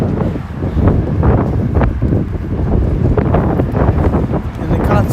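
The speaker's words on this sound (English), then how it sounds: "You can see it's nice and breezy up here." Steady gusty wind buffets the microphone up high in Boston, a constant loud low rumble lasting the whole stretch with no clear voices.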